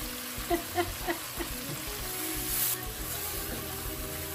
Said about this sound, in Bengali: আমি এটাকে একটু ঢেকে মশলাটাকে মিডিয়াম আঁচে একটু ভালো করে কষিয়ে নিই